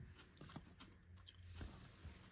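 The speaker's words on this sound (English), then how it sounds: "But it definitely sounds quite crunchy, folks." Very faint crunching bites and chewing of a chocolate wafer roll, close up but quiet, in a few short bursts against low background noise.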